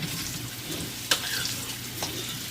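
Adobo chicken wings with potatoes stirred in a pan, with a steady sizzle of frying oil and a couple of sharp utensil scrapes against the pan; close and moderately loud, no talking.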